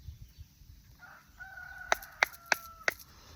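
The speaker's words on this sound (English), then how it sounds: "My rooster just started to crow." A rooster crows from some distance, a drawn-out call followed by a few sharp clicking knocks close by.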